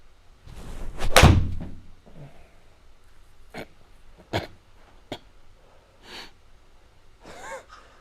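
A golf ball is struck with a club outdoors. A sharp, brief impact crack stands out among a few other scattered thumps and breathy noises, with no talk.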